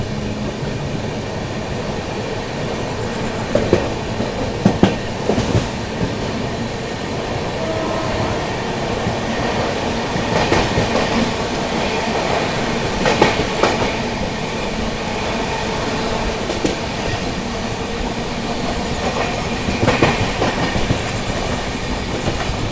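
Shiv Ganga Superfast Express running at speed, heard from inside a 2AC coach: a steady loud rumble with rhythmic clickety-clack of wheels over rail joints and occasional sharper knocks.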